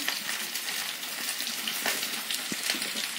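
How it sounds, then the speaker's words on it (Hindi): Oil heating in a pan on the stove before cumin and asafoetida go in for a jackfruit curry, giving a steady soft sizzle and faint crackle throughout, close and even. "यहाँ मेरा तेल गरम हो रहा है"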